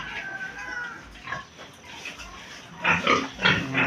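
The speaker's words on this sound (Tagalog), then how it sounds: "Kasi kain na ang baboy." Pigs in a piggery grunt and squeal at feeding time, with scattered close oinks and louder squeals bunched near the end.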